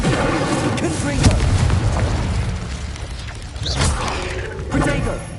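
Spell effects and magical blasts from Hogwarts Legacy on PS5, a chain of booming impacts and whooshing bursts layered over one another, with a voice calling out the spells.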